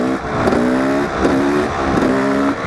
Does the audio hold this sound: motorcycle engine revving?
yes